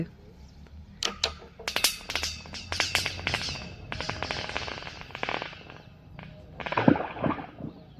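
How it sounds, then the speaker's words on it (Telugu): A stone dropped down a dry, dusty 230-foot borewell, heard as a rapid series of sharp clattering knocks and rattles as it bounces down the shaft, loud at first and then fading to scattered taps. "ఇక మళ్ళీ ఒక రాయి వేస్తాను, వినండి సౌండ్ అయితే"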